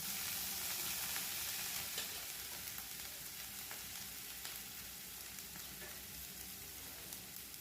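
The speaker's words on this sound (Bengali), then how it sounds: "দিয়ে দিচ্ছি ধনে বাটা জিরে বাটা মশলাটা একটু নেড়ে নিচ্ছি" Coriander and cumin paste sizzles steadily in a hot pan while being stirred, a dense close frying hiss with soft scraping running the whole time and no voices.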